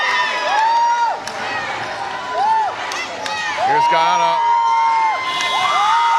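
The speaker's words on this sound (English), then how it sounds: "The home crowd absolutely feeling it." A home crowd at a women's basketball game between Guyana and Suriname cheers and whoops loudly, with shrill whistles and shouts, while a commentator talks over the noise.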